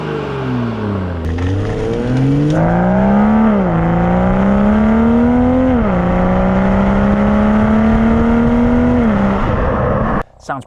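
A BMW M340i xDrive's exhaust revs loudly and repeatedly, the engine note rising and falling through several sustained throttle blips before cutting off abruptly near the end.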